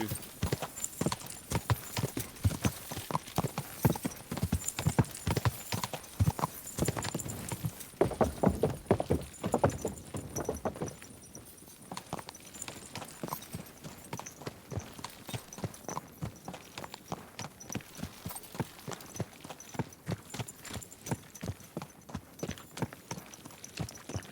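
Horse hooves clip-clop steadily in the video game Kingdom Come Deliverance 2, a brisk close rhythm that is louder and denser at first, then continues at a lighter walking pace.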